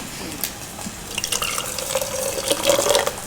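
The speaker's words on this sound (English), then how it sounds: "We're just gonna do a little bit of hot water." Hot water trickles and splashes as a small amount is poured over a chai tea bag for an iced chai latte, with a thin, steady stream that grows slightly louder toward the end.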